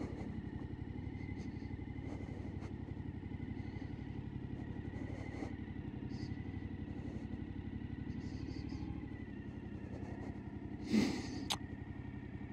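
A Suzuki V-Strom 1050XT (DL1050) adventure motorcycle moving slowly off-road, its engine a steady low rumble throughout with a brief louder burst near the end.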